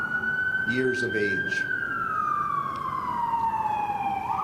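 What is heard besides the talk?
siren of an emergency vehicle going by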